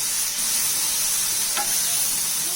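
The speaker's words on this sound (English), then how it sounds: "Now I'm simmering it down." Vegan paella with cooked kidney beans simmers in a pan, giving a steady, dense hiss of bubbling and sizzling that fills the moment evenly, with one faint clink partway through.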